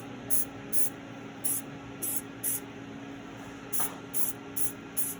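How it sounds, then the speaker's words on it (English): Short hissing bursts of an aerosol adhesive spray onto a foot, about nine quick sprays in an uneven rhythm, close by against a low steady background hum. "I just spray along the bottom and a little bit along the sides."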